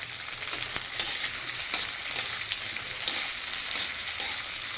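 Onion and capsicum sautéing in a pan for chilli chicken, a loud continuous sizzle with regular scraping stirs about every second, close-up and without speech.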